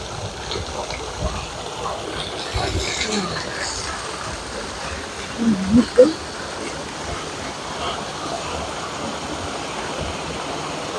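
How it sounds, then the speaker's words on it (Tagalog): Strong rushing water pours through a channel outdoors, a steady broadband roar that fills the whole stretch, with a few brief louder splashes about midway. "Sobrang lakas ng tubig dito."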